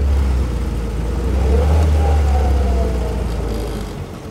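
A 1936 Riley 12/4 TT Sprite Special open tourer engine drones loudly and low as the car brakes and downshifts, its note rising briefly in the middle before easing off near the end.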